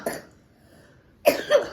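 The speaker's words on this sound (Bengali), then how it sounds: "এখনো কাশি হচ্ছে" A child coughs once, then again a moment later with a couple of quick, harsh bursts, close up with quiet in between.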